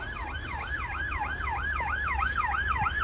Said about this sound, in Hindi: आपको आवाज़ आ रही है, ये पुलिस की गाड़ी और एम्बुलेंस वो यहीं आई है